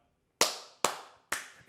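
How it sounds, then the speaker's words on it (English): Three sharp hand claps, evenly spaced and close, picked up by podcast microphones in an otherwise quiet room. "Claps are now audible through the mics, because I do it all the time"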